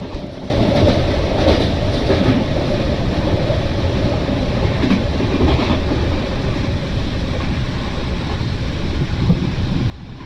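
Simulated Kottayam-Nilambur Express passenger train running steadily through a curve in the Railworks game, a loud continuous rumble with rhythmic clickety-clack of wheels on rail joints, no talking.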